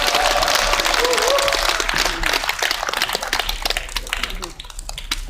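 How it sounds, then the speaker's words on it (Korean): Applause from an outdoor audience at a Marroniers Park (Marronnier Park) concert and debate event, as a retired KAF chairman comes up to speak. The dense clapping stays steady, then thins and fades, with voices talking over it. "큰 박수로 환영해 주시기 바랍니다."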